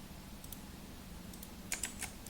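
Computer keys are pressed for a Control V paste: a few faint, quick clicks near the end of an otherwise quiet stretch, with no talking.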